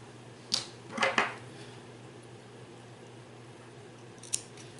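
Scissors snip fabric for a boat collar: a few quick close crisp cuts near the start, a short double snip around one second, then a single faint snip near the end over quiet room hiss.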